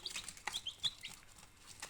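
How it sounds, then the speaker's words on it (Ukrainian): Chicks and young turkey poults on a farm give faint, high, short peeps, several in quick succession, against a quiet background. "От такі у нас курчатка"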